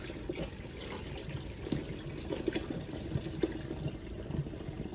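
Cooking liquid being poured off boiled potatoes makes a soft, steady watery trickle and splash that runs continuously at low volume, with no talking over it.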